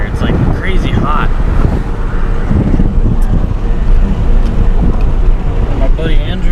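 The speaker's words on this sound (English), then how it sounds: "It's windy out west, it's windy here." Strong wind blows across an open field on a hot day, a loud continuous roar with heavy microphone buffeting, a voice heard briefly near the start and end.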